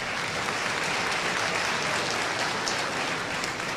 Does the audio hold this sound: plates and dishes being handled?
no